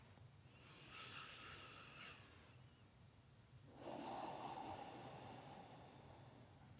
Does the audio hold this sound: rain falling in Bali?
no